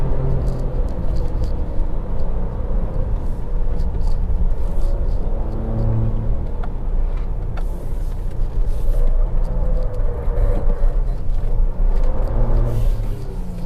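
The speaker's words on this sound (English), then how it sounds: "But the shifting up is done by the computer like this now." Interior drone of a Ford Ranger Raptor's 3.0-litre twin-turbo engine under load on a tight mountain road, a steady loud low rumble that dips and swells as the automatic gearbox shifts up, with no talk.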